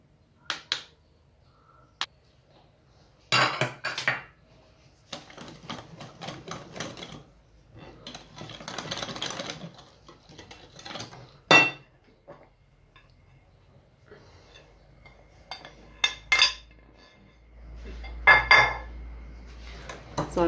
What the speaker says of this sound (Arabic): حركوا العناصر حتى ينسجموا مع بعضياتهم.